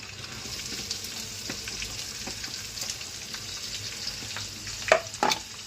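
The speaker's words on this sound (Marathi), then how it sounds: "कांदा टाकल्यानंतर लाल होईपर्यंत त्याला असं हलवायचं आहे" Onion frying in hot oil while being stirred in a pan, a continuous close sizzle with soft scraping stir strokes and a couple of louder clanks near the end, with no speech.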